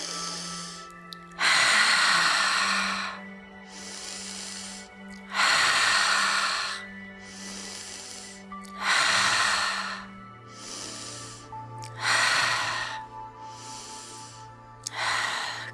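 Slow, deep yoga breathing during joint mobility movements, with long audible inhales and exhales repeating about every three seconds, each breath a breathy rush close to the listener, over quiet background music.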